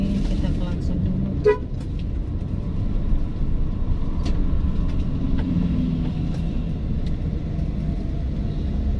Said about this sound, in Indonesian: Oke, kita klakson dulu.